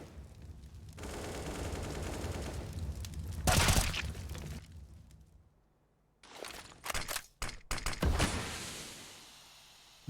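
Counter-Strike: Global Offensive gunfire at a pro esports match, bursts of rapid shots and sharp single cracks separated by short gaps, loud and close, with faint commentary underneath.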